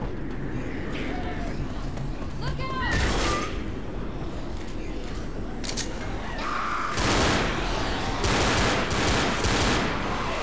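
Gunfire rings out while shooting zombies in the video game Left 4 Dead, with repeated bursts of rapid shots over a constant background din, and voices talking at times.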